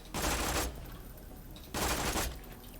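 Two dense bursts of rapid burst-fire gunshots from a weapon in Borderlands 2, each volley lasting about half a second, loud and close with a quieter gap of game ambience between them.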